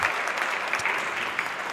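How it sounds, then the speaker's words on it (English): Steady applause from a Rotary meeting audience, many hands clapping continuously at moderate distance, filling the room as a sustained wash of claps with no talking over it. "Let's give them another big round of applause for sponsoring today's meeting."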